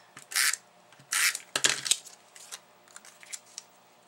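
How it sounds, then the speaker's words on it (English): Paper cardstock being snipped with scissors while a Father's Day card is assembled, a few crisp separate cuts with short pauses between them, close and fairly quiet, with no talking. "cut your square in half at an angle"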